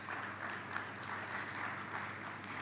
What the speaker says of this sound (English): another round of applause for the young man